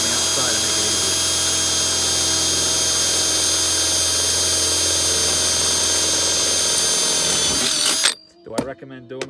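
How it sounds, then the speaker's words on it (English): A power drill boring a drain hole in the metal of a 1970 Fedders 10,000 BTU air conditioner, a loud continuous high whine for about eight seconds that stops abruptly, followed by a few brief clanks. "we can drill that one from the outside and make it easier"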